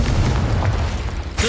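A Confringo blast spell in Hogwarts Legacy lands as a single short, deep, booming burst, loud and close, fading quickly into a low rumble.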